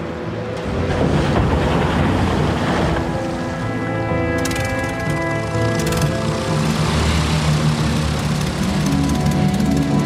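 Big engines of a giant Dornier flying boat drone and roar as it takes off from the water, a loud sustained multi-engine hum with steady tonal harmonics and a rising whine midway, mixed with rushing water noise.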